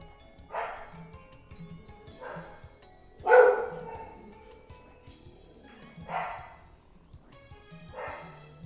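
Dogs bark in short spaced bursts, a few yips and woofs repeating every couple of seconds, moderately near with a quiet background.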